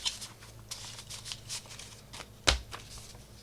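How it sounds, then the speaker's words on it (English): A trading card slides into a paper envelope while being packed for shipping, heard as a short, close papery rustle and scrape ending in one soft thump, with no talking. "just go and slide it in the envelope."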